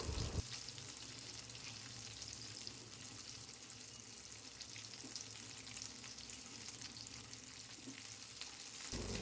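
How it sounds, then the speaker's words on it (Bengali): Onion pieces, garlic and green chili fry in a pan for a fish dish and are stirred, making a steady, faint sizzle with soft scraping of the spoon throughout, and no talking. "এখন পেঁয়াজের টুকরো রসুন কাঁচা লঙ্কার সাথে খুব ভালো করে মিশিয়ে নাড়াচাড়া করে নেব"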